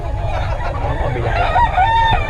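A stag gamecock crows and clucks close by in a brief burst, a rising strained call over low background noise.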